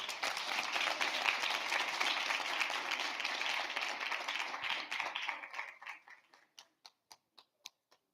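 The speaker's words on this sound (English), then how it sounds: "Another round of applause for the President," Delegates at the closing ceremony of the World Federation of Democratic Youth General Assembly applaud the President in a full, steady burst that fades out into a handful of isolated, spaced claps.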